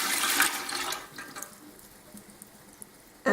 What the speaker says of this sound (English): I'm going to transfer my oils into my mixing pot.